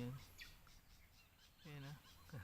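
A migratory bird calls outdoors at a campsite, faint chirps and whistled notes repeating in short bursts against a quiet background.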